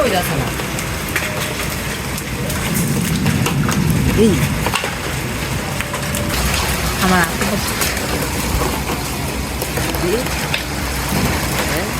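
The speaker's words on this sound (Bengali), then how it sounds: "অনেক জোরে বৃষ্টি হচ্ছে আর সাথে শিলা পড়ছে" Heavy rain with hail pours down, the hailstones making scattered sharper pattering hits on surfaces, while voices speak occasionally underneath.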